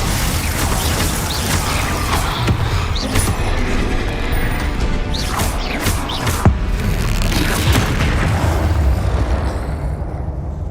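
A Confringo fire spell explodes during spell-casting combat in the PC game Hogwarts Legacy, loud booms and crashing impacts over a dense, continuous rumble of battle effects with scattered sharp hits.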